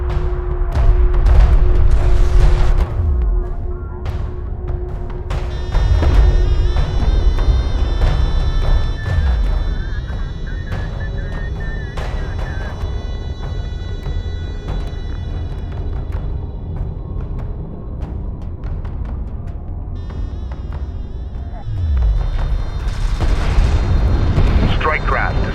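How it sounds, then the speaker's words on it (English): Explosions and heavy fire boom around a turret under attack in Homeworld: Deserts of Kharak, deep rumbling blasts with a steady mechanical drone beneath, loud and continuous, while radio-style voices talk over the battle. "One of our turrets is taking fire. AA turret taking fire."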